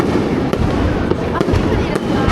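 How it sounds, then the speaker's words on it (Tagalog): Fireworks boom and crackle at a crowded hanabi display in Osaka, Japan, with several sharp bursts over a dense rumbling din of the crowd, and voices talking throughout. "Nag-start na yung fireworks display guys"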